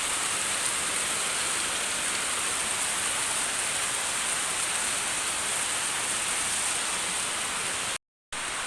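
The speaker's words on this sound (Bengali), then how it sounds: "দেখো কি মুষলধারে বৃষ্টিটা নামলো" A heavy downpour of rain pours down as a dense, steady hiss that stays loud and unbroken throughout, with no voices.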